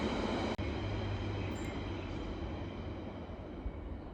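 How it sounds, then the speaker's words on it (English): A train rumbles steadily past close by, a loud, continuous roar of rail wheels and carriages that fades slightly toward the end, with no talking over it. "with the train coming past"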